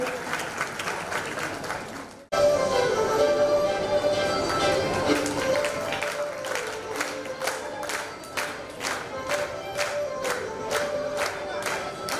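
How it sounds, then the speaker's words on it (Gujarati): Audience applause at a community reunion dance performance in Dhulkot, a sudden burst of sustained clapping and crowd noise that swells after a brief quiet and continues steadily, with rhythmic claps in unison rising toward the end. "સો બધા તાળીઓના ગડગડાટથી એમનું સ્વાગત કરશે."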